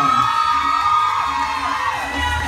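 Audience at a children's pageant cheers and shouts continuously, a dense crowd roar with whoops and children's voices, loud and steady throughout.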